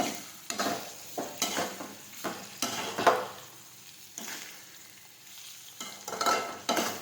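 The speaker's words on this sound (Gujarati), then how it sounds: "ફરી પાછું આપણે સાતળી લઈશું આ રીતે" Kantola (spiny gourd) curry sautéing in a pan after salt and sugar go in, with a steady low sizzle under repeated stirring strokes that scrape and shuffle the vegetables in irregular bursts.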